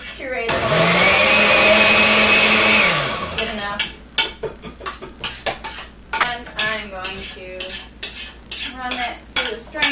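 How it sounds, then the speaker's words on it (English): A blender purees plain peaches, whirring loudly and steadily for about three seconds, then cuts off, followed by clinking and shuffling kitchen sounds. "I'm going to put the plain peaches in the blender."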